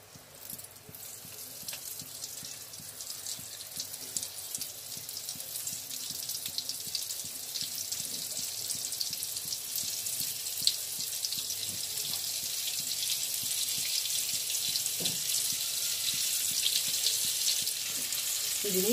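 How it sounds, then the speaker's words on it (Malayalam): Marinated brinjal shallow-fries in oil in a pan over a low flame, a steady hissing sizzle that slowly grows louder, with occasional faint clinks and stirring noises throughout. "അതിന് നമുക്ക് നന്നായിട്ട് വറുത്തെടുക്കണം, ഷാലോ ഫ്രൈ ചെയ്തെടുക്കാം."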